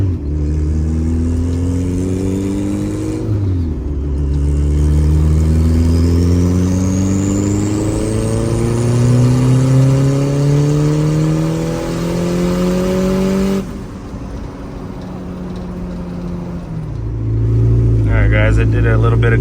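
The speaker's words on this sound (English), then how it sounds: "All right, guys, we're gonna do a full throttle third gear pull." Turbocharged Honda B18B1 car on pump fuel making a full-throttle third-gear pull: a loud, close engine note climbing steadily in pitch, briefly dropping at a shift, then rising again before falling off as the throttle closes.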